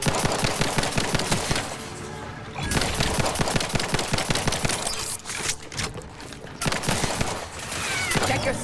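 Rapid automatic gunfire in The Outer Worlds 2 rattles in loud, dense bursts separated by short pauses, close and sharp, continuing throughout.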